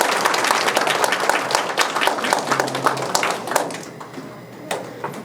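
Audience applause fills a hall at a research presentation on disability personal-assistance services, a dense burst of many hands clapping that holds for a few seconds and then thins out into scattered claps.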